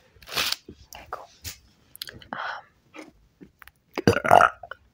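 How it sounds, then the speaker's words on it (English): Close-miked burps from a person in a quiet room, with several short, gurgly bursts spread across the moment and a louder, drawn-out one near the end. "I love burping."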